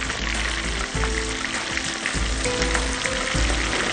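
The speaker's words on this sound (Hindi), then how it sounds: "फ़िश हमारी फ्राई हो रही है बहुत अच्छी सी" Fish frying in a pan gives a loud, steady sizzle with dense crackling and occasional spits and pops, heard up close with no talking.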